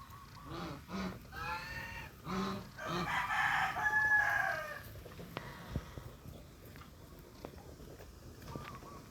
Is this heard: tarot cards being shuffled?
no